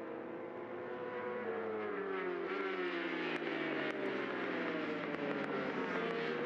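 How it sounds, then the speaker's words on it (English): A Ducati Panigale superbike races at Aragon, its high engine note rising and falling steadily as it climbs through the gears. The sound is continuous and moderately loud against the trackside background. "Canepa really pushing on the Ducati Panigale there."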